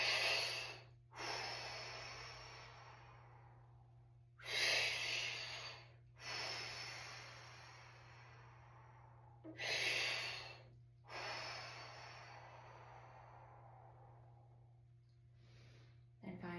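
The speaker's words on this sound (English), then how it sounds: "5 or 6 breaths." Deep, slow breathing during a yoga twist done as a congestion-relief exercise: about four long inhale-exhale cycles, close and clear, with a steady low hum underneath.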